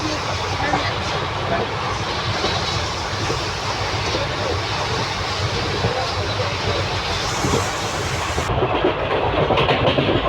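A passenger train on the Hyderabad to Tirupati route running on rails, a loud, steady rumble and rattle heard from inside, with people talking under it.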